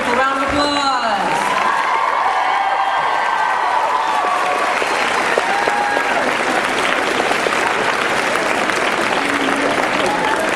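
Comic Con audience applauding the Torchwood cast at a 2008 panel, a big hall of sustained clapping with scattered cheers and whoops, loud and steady throughout, with a voice over a PA briefly heard at the start.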